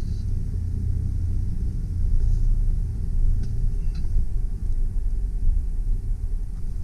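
A 2003 GMC Sierra 2500HD 6.0L V8 four-wheel-drive work truck with a utility body running in reverse, a steady low engine rumble with slight rises, close and continuous with no talking.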